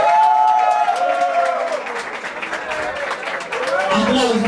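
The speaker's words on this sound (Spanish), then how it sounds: "Aplauso para Paris Forever" Studio audience applause on a Spanish-language reality competition show, a steady wash of clapping and crowd noise with musical tones layered beneath it, moderately loud throughout.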